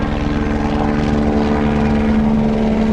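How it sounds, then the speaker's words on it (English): A helicopter drones loudly and steadily close overhead in South Florida, its rotor chopping in a constant thrum that fills the whole stretch with no pause. "Sorry for the helicopter."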